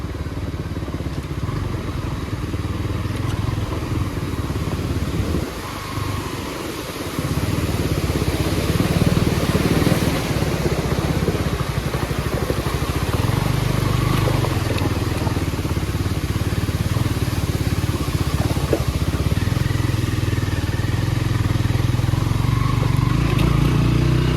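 A motorcycle rides over a rough, bumpy soling village road, its engine droning steadily and close throughout with rattling undertones and a brief dip in level early on.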